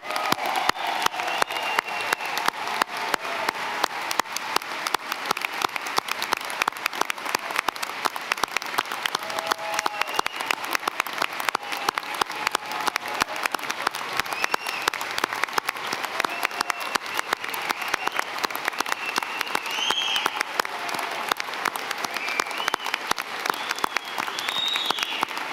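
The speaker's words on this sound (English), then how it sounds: "Let's give another round of big applause to our students and graduates." Sustained, even applause from a large seated audience fills a 2017 commencement ceremony hall, steady dense clapping without a break and no voices rising above it.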